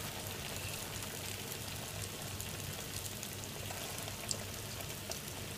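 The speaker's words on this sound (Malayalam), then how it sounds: "ചൂടായ എണ്ണയിലോട്ട് നമ്മൾ തയ്യാറാക്കി വെച്ചിട്ടുള്ള ഓരോ ജാമുനായി മാറ്റാം" Bread gulab jamun balls frying in hot oil over a very low flame, a soft continuous sizzle and bubbling hiss, close and quiet with an occasional small pop.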